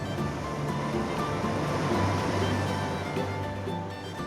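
Steady ocean shoreline surf washes continuously as an ambient audio track for a virtual window, with a broad, even roar of waves and no voices.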